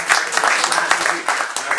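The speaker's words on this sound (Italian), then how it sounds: "lo ringraziamo, gli facciamo un applauso" A short burst of dense audience applause after a talk at an Italian literary conversation event, loud and close, with murmured voices mixed into the clapping.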